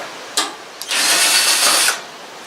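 A cordless drill driver whirs as it backs screws out of the top panel of a home air-conditioning unit, a short blip followed by a loud, steady spin lasting about a second, close by.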